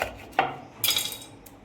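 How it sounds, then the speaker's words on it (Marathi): A knife cuts the ends off drumstick pods on a board, making two or three quick, sharp snapping clicks close by within a couple of seconds. "याचा मागचा भाग कापून घ्यायचा आणि समोरचा पण भाग कापून घ्यायचा असा।"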